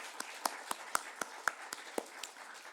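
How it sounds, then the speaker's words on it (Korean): A church congregation at an evening prayer meeting claps in thanks to God, a steady rhythmic beat of roughly ten crisp claps at an even quick tempo. The clapping is moderately loud and carries no voices. "먼저 감사의 박수로 하나님 앞에 드리겠습니다."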